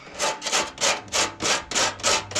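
Wooden wing and back panel being sanded by hand, steady back-and-forth rasping strokes, about six regular passes close up with no talk.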